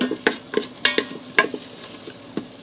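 In an Instant Pot on saute, butter melts with a soft sizzle as a spoon scrapes and taps the pot in a run of distinct, evenly spaced strokes.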